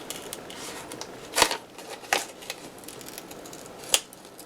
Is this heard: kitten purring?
no